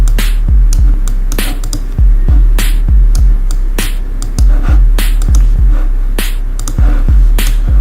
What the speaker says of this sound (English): So this is the first kick, guys.